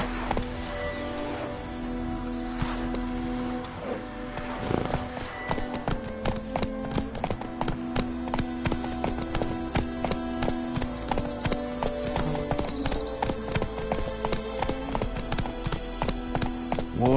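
Horse hooves clip-clop in a steady, rapid rhythm as a horse gallops in The Witcher 3, close and continuous, with game ambience and music beneath and no talk.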